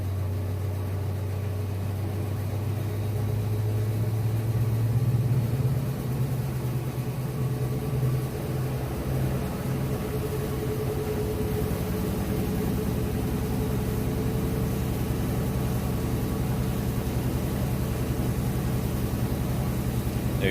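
A Hotpoint top-loading washing machine spins at top speed with the lid closed, giving a smooth, continuous low motor hum and whir that holds steady throughout with no knocking or wobble.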